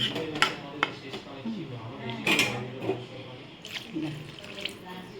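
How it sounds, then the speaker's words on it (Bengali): Water added to a cooking curry of elephant foot yam and prawns, with splashing and clinks of a utensil against the pot, faint and close amid kitchen clatter. "এবারে আমি জল দিয়ে দিচ্ছি"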